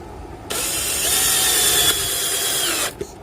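A Bosch GSB 180-LI 18V cordless drill drives a screw in one continuous, loud, close whir of about two and a half seconds, ending abruptly, followed by a short click.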